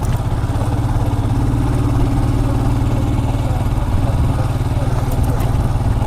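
A motorcycle engine runs steadily and loudly throughout, a continuous close rumble with no break, heard on a ride toward Ambajidurga with a rider and passenger aboard.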